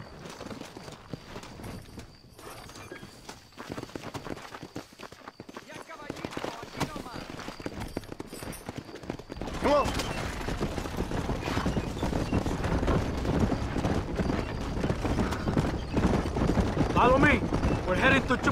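Horse hooves clip-clopping at a riding pace in the western video game Red Dead Redemption, a steady rhythmic clatter that grows busier and louder midway, mixed with game ambience and characters talking.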